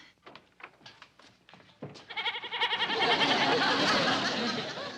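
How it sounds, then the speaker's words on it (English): A goat bleats loudly and continuously for several seconds, following a few short sounds and stirrings. "It's a goat, dear."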